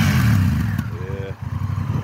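A Honda Rebel 1100 motorcycle engine rumbles close by at steady idle with a brief rev, its low throb continuous for about two seconds, loud and with no speech.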